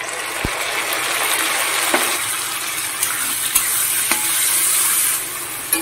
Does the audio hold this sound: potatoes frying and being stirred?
yes